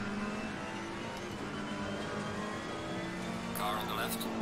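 A race car engine in the Assetto Corsa sim holds a steady, fairly faint drone, with a brief burst of bright noise near the end.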